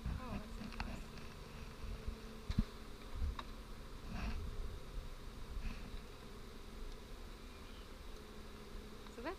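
Bees buzz around an old, dark bee barrel hive, a steady low drone with occasional close fly-bys and faint clicks, while people talk quietly in the background.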